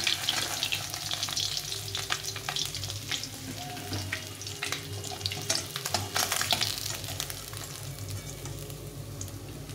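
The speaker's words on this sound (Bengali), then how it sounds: "বাকি মাছগুলো এভাবে ভেজে নেব" Several pabda fish fry in hot oil, giving a continuous, moderately quiet sizzle scattered with sharp pops and spits, with no voices over it.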